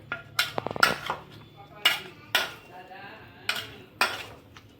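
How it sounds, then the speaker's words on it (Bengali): A spoon clanks and scrapes around a bowl while small chicken pieces are mixed into a marinade, several distinct knocks spaced out over a quiet background. "ধরো বন্ধুরা, আমি ম্যারিনেশন করছি এটাকে।"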